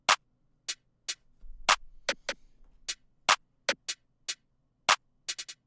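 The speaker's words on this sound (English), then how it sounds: "In total, all the snares are going to sound like this." Layered programmed snare hits from a beat, about fifteen sharp crisp strikes in an uneven syncopated pattern with quick flams near the end, plus a faint low hum underneath; no voices.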